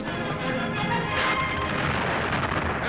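A torpedo strikes a ship amidships and explodes in a 1960 war film, a loud sustained rumbling blast with crackling debris filling the scene without pause.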